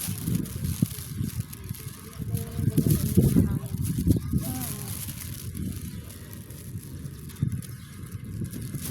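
Wind buffets the microphone outdoors on a windy, hot day, a rough low rumble that swells and gusts throughout while people talk over it.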